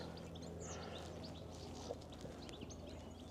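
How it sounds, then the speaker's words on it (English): Songbirds chirp and twitter faintly among countryside orchards in Kent, light scattered calls over a quiet outdoor hum with a distant aircraft drone. "All you can hear is the birds singing."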